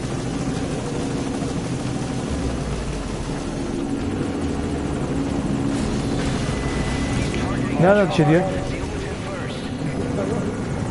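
A helicopter in the video game Metal Gear Solid V: Ground Zeroes keeps up a continuous rotor drone behind game effects, while a player talks over it.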